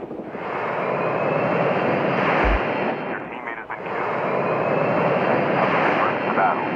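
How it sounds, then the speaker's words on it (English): Aircraft passing over during an airdrop in Call of Duty Mobile, a loud steady engine roar under battle noise that dips briefly midway before swelling again. "The airdrop is coming."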